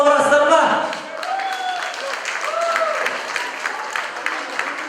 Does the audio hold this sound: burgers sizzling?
no